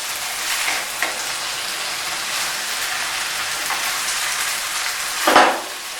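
Okra with raw mango fries on a high flame, making a loud, constant crackling sizzle like rain. A few scrapes from stirring come through, with a stronger clatter near the end.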